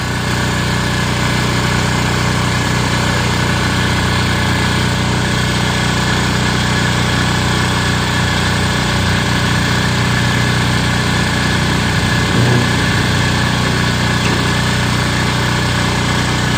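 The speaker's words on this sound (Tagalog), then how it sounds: "Sila po ay gagamit po talaga sila ng generator." A portable generator powers a welding machine on a work site, a loud, steady engine drone with a constant mechanical hum and vibration throughout, close by and unbroken, with no talk.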